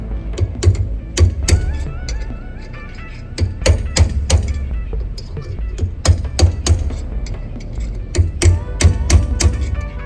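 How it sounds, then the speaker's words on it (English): Sharp metallic strikes of a hammer on a punch driving off a seal ring out in irregular bursts, several hits in quick succession, close and loud, with low clunks and a voice in between. "Take a hammer and hit that punch and drive the seal off."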